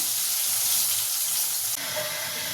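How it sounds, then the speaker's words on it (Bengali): Soft bhetki fish pieces fry in hot oil in a kadai, giving a steady, dense, close sizzle and hiss that continues alone without talking. "এইভাবে মাছগুলোকে আমি পরপর ভেজে নেব।"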